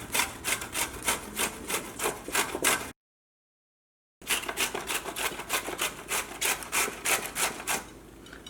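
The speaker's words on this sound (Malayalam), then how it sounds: "അപ്പോൾ ഞാൻ ഗ്രേറ്റ് ചെയ്തിട്ടാണ് എടുക്കുന്നത്." Capsicum grated by hand for a vegetable snack, a fast regular rasping stroke repeated many times, close and loud, with a brief silent break partway through.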